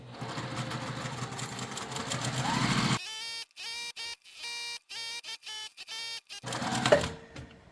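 Sewing machine stitching a long quilt border of fabric and gingham: one close, steady whirring run, then a series of short stop-start bursts of stitching with brief pauses between.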